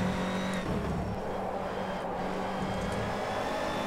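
Race car engine in a racing video game, a steady droning roar held at high revs throughout, with faint tyre noise and no speech.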